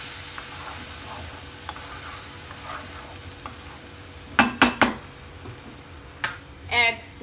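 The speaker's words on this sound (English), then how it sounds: "Mix it nicely." A spoon stirs masala paste in a cooking pan for matar paneer over a faint sizzle, with a quick burst of sharp scraping knocks near the end.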